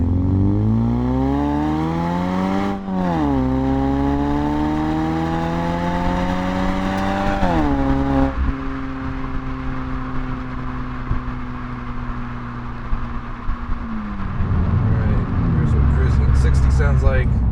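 A 4th-gen Mazda3 fitted with a CorkSport axleback exhaust revs up through two gear changes, then settles into a steady, low engine drone with road noise while cruising in sixth gear at about 1750 RPM.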